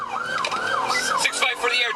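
Police sirens wail during a high-speed city chase at night, the rising and falling tone sweeping in quick cycles, loud and close with traffic noise underneath.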